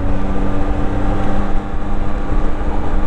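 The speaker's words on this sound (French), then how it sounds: "Un petit bruit sympa. On sait tout de suite qu'on est sur un 3 cylindres" A Zontes 703F three-cylinder motorcycle engine drones steadily up close, a continuous loud rumble with a brief dip midway and no voices.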